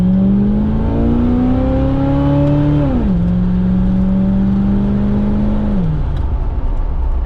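A 1991 Pontiac Firebird Trans Am, converted from TPI to a carburetor, revs loudly under acceleration while driving, its engine note climbing steadily, dropping at a gear change, then pulling again before easing off.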